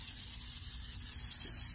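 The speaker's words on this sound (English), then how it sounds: "you just hairspray it all." Hairspray misted from an aerosol can over a competition hairstyle gives a soft, continuous hiss lasting under two seconds, close and quiet.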